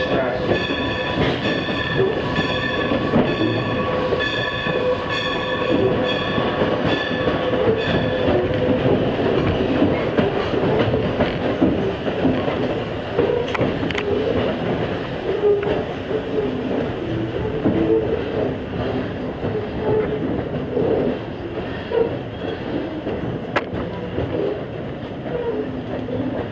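A ride aboard a Strasburg Railroad train hauled by steam locomotive No. 90 through Lancaster County farmland. Passenger cars rumble and clatter on the rails, with a tonal whine early on and a steady noise throughout.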